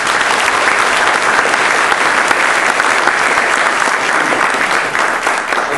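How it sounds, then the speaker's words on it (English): A loud, dense round of audience applause at a state budget panel event, sustained clapping from a full room that runs evenly throughout with no speech over it. "Let's have some applause."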